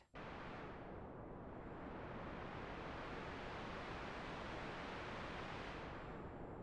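Steady broadband hiss from a synthesizer noise generator, its filter cutoff swept by an LFO, rising and falling like gusting wind, continuous and fairly loud throughout.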